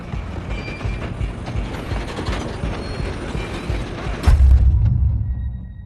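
A steam train runs in Red Dead Redemption 2, its steady mechanical rumble and clatter continuing throughout, with a heavy low boom near the end as the sound swells louder.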